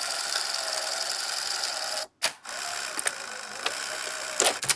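A Betamax SL-C30 direct-drive tape loading mechanism threads tape with a steady mechanical whir, broken by a brief stop and restart, then a few small clicks and clunks near the end.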